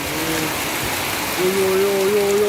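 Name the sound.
heavy rain on a mountain ghat road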